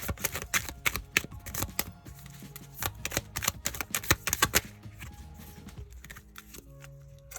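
A Whispering Woods oracle card deck is shuffled by hand, giving rapid soft riffling and tapping bursts that come in quick uneven clusters, close and fairly quiet, with no talk.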